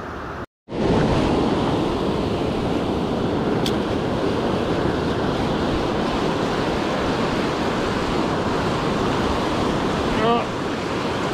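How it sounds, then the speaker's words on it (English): Loud, steady roar of ocean surf at high tide on a fishing beach, with waves washing in continuously and wind buffeting the microphone; a brief dropout near the start. "About to hit the surf again. It's currently high tide right now."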